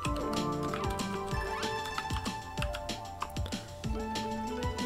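Keys clatter on a computer keyboard as a command is entered at a Windows command prompt, a quick, close stream of light taps with short pauses, no voices.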